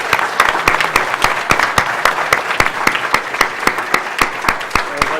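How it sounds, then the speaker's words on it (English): Scattered applause from a small crowd at the AGDQ 2014 gaming marathon, sharp individual claps repeating steadily throughout, fairly close and without talk. "I owe him a huge round of applause for making this very possible."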